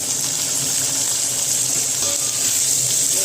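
Chopped onion, garlic and green chillies frying in a pan with oil: a loud, steady, even hiss of sizzling that runs throughout without pause.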